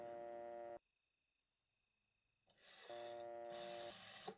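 Telephone line tone on a phone in the wartime horror game Martha Is Dead, with bombing underway: two buzzy, harmonic tone bursts separated by a quieter stretch carrying a faint steady high whine, close and clear with no talking.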